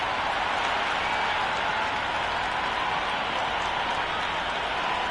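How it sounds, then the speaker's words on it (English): Crowd noise at a cricket stadium before an India vs New Zealand one-day international, a steady, dense roar of cheering and clapping that holds at an even level throughout. "already the crowd making a hell of a racket"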